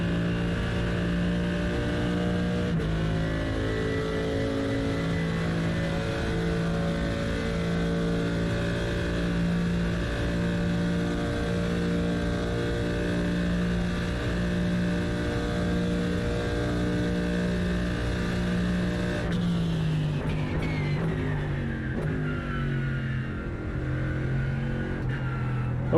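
A race car engine in the iRacing sim racing game drones steadily and loudly with a rich harmonic hum, holding one pitch before dropping as the car shifts gear late on. No voices are heard.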